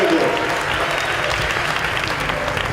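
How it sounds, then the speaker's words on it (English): Guests at a wedding reception clap for a couple married over four decades, a loud, continuous burst of many hands that holds evenly throughout. "Let's give them one more round of applause."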